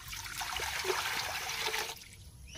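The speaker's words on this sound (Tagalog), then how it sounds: "Maglalagay lang po ako ng tubig dito sa kaldero." Water poured from close by into a cooking pot for steaming saba bananas, a steady splashing trickle that stops abruptly near the end, leaving a quieter moment and a small clunk.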